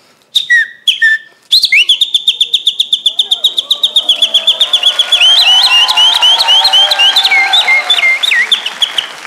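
On a comedy TV show stage, a voice imitates a nightingale, opening with a few clipped calls, then a loud, close stream of rapid whistled trills and warbling phrases that keeps going without pause.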